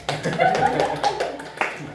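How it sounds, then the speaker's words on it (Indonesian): Audience clapping at an Indonesian teachers' discussion session, a short burst of moderately loud applause with voices and a chuckle mixed in. "Wow, iya, kasih aplaus."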